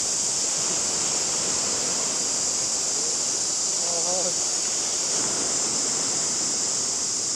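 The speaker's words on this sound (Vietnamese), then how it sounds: "gió với sóng cao quá" Strong wind roars continuously over high sea waves on a desert island, a dense, loud wash of noise that never lets up, with a faint voice briefly beneath it.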